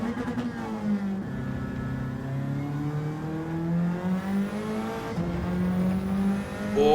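A race car engine in Gran Turismo 7 revs and accelerates through the gears, its droning tone climbing steadily, dropping briefly at each shift and climbing again, loud and continuous with no talk.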